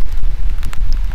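Heavy rain and wind hitting an outdoor camera, a brief loud burst of rumbling wind buffeting and scattered rain patter, with no voices.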